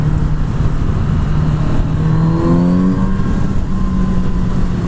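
Kawasaki motorcycle fitted with an Akrapovic exhaust, a steady mid-pitched engine drone that swells in a brief rev before settling back, moderately loud and continuous with no voices.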